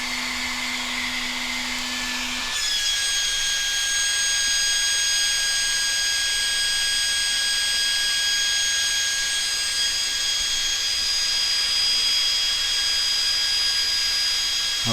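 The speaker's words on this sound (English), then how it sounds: "I've got a fan here. It's a little bit noisy, unfortunately." A noisy fan cools the heatsink of a Fnirsi IPS 3608 power supply, switching on after a low hum and running as a loud, steady whirring rush with high whining tones throughout.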